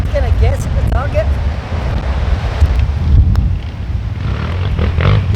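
Loud, constant wind gusts roar across the microphone on a golf course, with birds chirping early on and occasional soft knocks as the wind keeps rushing throughout.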